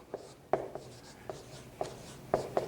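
Pen or pencil writing on paper while noting element names in a chemistry lesson on naming ionic compounds: a quiet series of scratchy strokes and taps, close up, with no talk.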